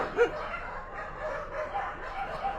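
Several dogs barking at a hyena at night in Dire Dawa's Mariam Sefer neighbourhood sound as a distant, faint cluster of yips and barks over a noisy background.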